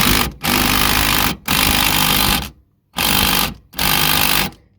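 An impact wrench tightening the idler pulley bolts on a Mitsubishi Endeavor, firing in four loud, close rattling bursts of about a second each, separated by brief gaps.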